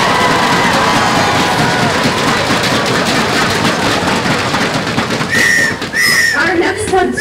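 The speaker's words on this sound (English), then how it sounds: "Ladies, give them a round of applause." Crowd noise at an opening ceremony, a continuous roar of audience applause and cheering with shrill whistles cutting through near the end, loud and busy.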